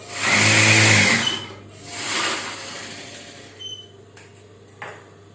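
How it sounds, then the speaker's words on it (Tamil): A sewing machine stitches fabric layered with canvas for a blouse, a loud mechanical whirring run up front, then a softer second burst, followed by quieter handling clicks and taps. "அந்த துணியை வச்சு கேன்வாஸையும் வச்சு அடிக்க போகிறோம்"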